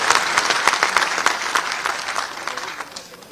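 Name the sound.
loud applause welcoming Gulab ji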